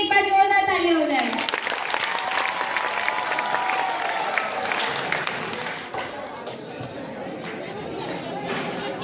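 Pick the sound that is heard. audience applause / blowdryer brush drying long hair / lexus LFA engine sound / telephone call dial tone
audience applause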